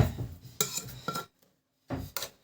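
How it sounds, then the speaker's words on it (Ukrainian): A spoon scrapes and clinks against the inside of a pot in a few short bursts, with a brief quiet gap partway through. "І зразу ложкою зараз помішаю."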